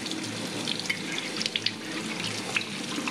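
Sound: washing canning jars under running water

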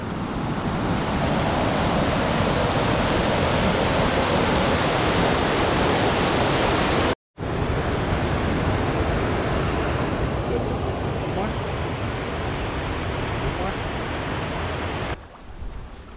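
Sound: waterfall

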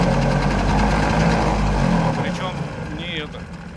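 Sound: Yamaha outboard boat motor idling after starting

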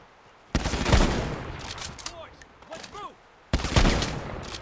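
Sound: gunfire in the video game Lost Light

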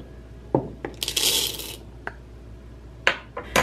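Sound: French roast coffee beans ground with mortar and pestle

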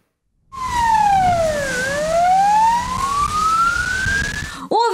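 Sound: emergency vehicle siren

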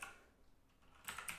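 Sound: typing on a computer keyboard

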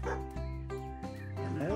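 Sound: dog barking in a video game

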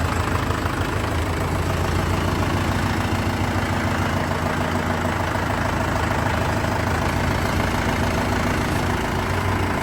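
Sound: Mahindra Yuvo 585 tractor engine idling

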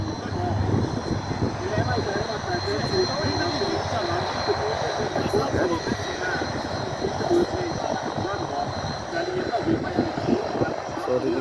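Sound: propeller aircraft engine

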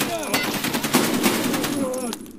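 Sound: AKM rifle gunfire in video game Escape From Tarkov

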